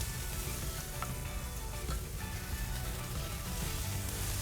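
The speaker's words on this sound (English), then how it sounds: "You got butter in there, so it's gonna flare up a little bit on you." Oysters with butter on a char-grill sizzle loudly and continuously up close, a dense crackling hiss with no talk.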